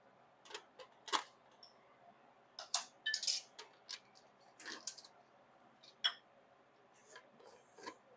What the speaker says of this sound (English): I've got a new thing of peanuts here, so I'm going to cut into them.